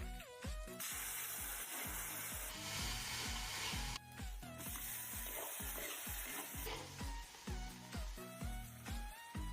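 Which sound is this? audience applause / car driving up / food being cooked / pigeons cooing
food being cooked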